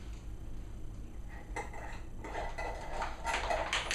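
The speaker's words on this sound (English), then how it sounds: "First, you want to stir this peanut butter." A spoon stirs peanut butter in a bowl with close scraping and light clinks against the dish, quiet at first and then growing busier and louder toward the end.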